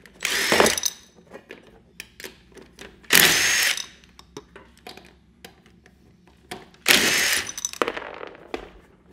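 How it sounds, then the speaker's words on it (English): A power drill boring a new lug pattern into a go-kart wheel in a workshop, with three loud, high-pitched bursts of drilling separated by quieter clinks and handling noises. "drill for new lug pattern, and then put the new wheel on"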